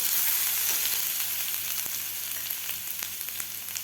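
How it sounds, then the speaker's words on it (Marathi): Ginger garlic paste sizzles in hot oil while being stirred, a dense, close hiss that eases slightly over a few seconds, with faint spoon scrapes and no talking. "यामध्ये घालायचे आपल्याला अद्रक लसूणची पेस्ट अद्रक लसूणची पेस्ट व्यवस्थित आपल्याला हलवून घ्यायची आहे"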